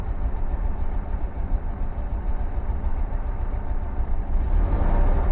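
A 1968 VW Type 3 with its original fuel injection idles steadily at close range, a low, even rumble that holds without a break and swells slightly near the end.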